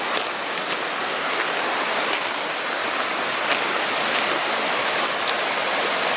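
A forest creek rushes past a miner's camp near Gaston Mine, producing a constant, full, close wash of flowing water with no voices.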